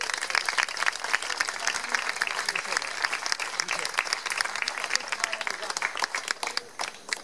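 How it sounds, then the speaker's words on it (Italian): Audience at the San Basile Martire celebration in San Severo applauds steadily, dense clapping filling the room at a moderate level with voices mixed in, fading near the end. "a cui voglio dedicare un applauso."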